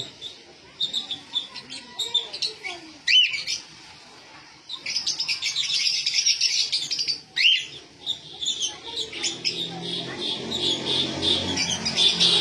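Lovebirds chirping in rapid, high-pitched bursts, fairly close, with short pauses and a soft rustling background.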